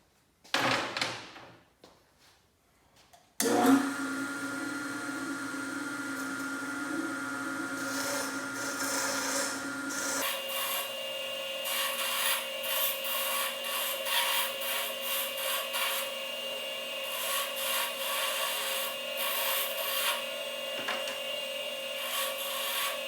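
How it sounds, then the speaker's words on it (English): Grinder cutting off a spot weld on a plate on a Ford 300 cylinder head, a loud steady high-pitched grinding that starts after a brief handling noise and shifts pitch midway as it bites into the metal. "I'm gonna grind the spot weld off and it'll just become a pintle"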